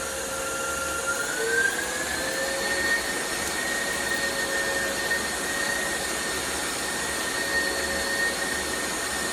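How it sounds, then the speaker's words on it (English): A KitchenAid stand mixer whirs steadily at high speed while beating egg whites, producing a loud, constant motor drone with a faint whine rising slightly as it runs. "I'm gonna bring this up a little faster to get those egg whites to get to a soft peak"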